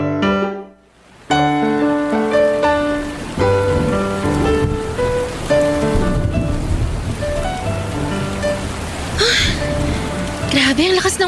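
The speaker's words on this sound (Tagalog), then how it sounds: "Grabe, ang lakas ng ulan." Heavy rain pours down steadily, a dense hiss of drops that fills the scene, with music playing over it and a voice talking.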